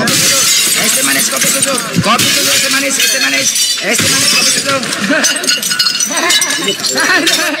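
Glass shatters in loud, dense crashes with tinkling fragments, mixed with constant loud, excited voices and commotion throughout.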